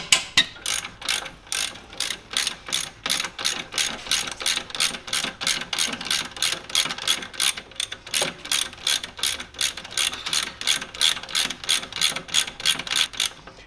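Rapid rhythmic clicking from a ratchet wrench turning a bolt on a Subaru engine, steady back-and-forth bursts repeating close up for the whole stretch with no talk.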